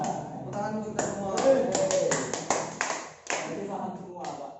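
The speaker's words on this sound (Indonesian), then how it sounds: "Tepuk tangan untuk kita semua." A classroom group clapping hands together in rhythmic bursts, sharp close claps in quick patterned sequences with a voice talking between them.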